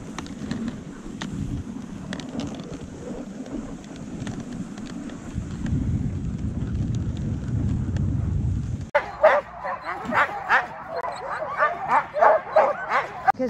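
Husky sled dogs on a team in Lapland bark and yip in quick, excited bursts, close and loud, after a stretch of wind and runner noise; a person's voice is heard briefly.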